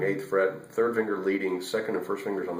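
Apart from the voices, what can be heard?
No distinct noise like a dog, phone or traffic.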